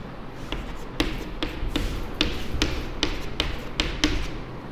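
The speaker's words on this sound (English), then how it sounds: "So I am writing here number 2" Chalk or marker tapping out numbers on a board during a maths lesson, about a dozen sharp evenly spaced taps in a steady rhythm, close and clear with no talk over them.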